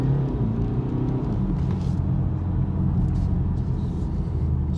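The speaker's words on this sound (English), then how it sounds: "So that's how we use launch control on the BMW." A BMW car's engine roars loud and steady as it accelerates hard under launch control, a dense continuous rumble with no talking.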